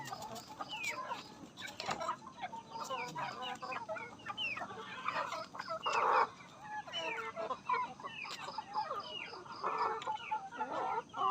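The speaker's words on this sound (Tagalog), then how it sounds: "Ito yung mga Rhode Islander na manok natin." Rhode Island Red chickens cluck steadily on a farm, a busy flock of overlapping calls with occasional louder squawks, fairly close and continuous with no talk.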